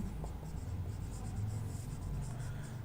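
Chalk or marker scratching steadily across a board during a lecture, soft and continuous with short strokes, fairly close and alone.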